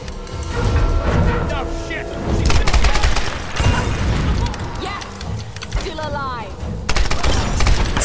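Pistol gunfire in Tomb Raider (2013), sharp loud shots and bursts mixed with booming impacts and mechanical clatter, with voices talking in between.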